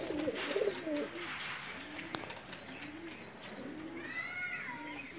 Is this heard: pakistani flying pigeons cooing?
yes